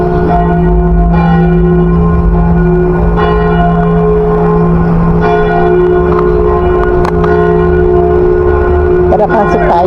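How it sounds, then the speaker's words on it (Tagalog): A church bell rings loudly and close by in a Filipino municipal town, its strikes repeating every second or two over a continuous humming resonance, with some faint street noise at the end. "lakas ng tunog ng bell"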